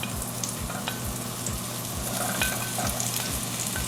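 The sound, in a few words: mushrooms frying in bacon grease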